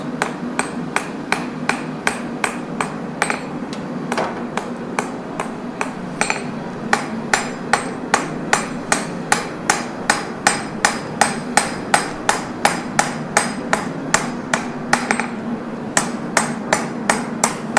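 Steady, evenly spaced hammer blows ring out on hot metal during a forging session, dozens of loud, close, bright strikes repeating for the whole stretch over a low workshop hum.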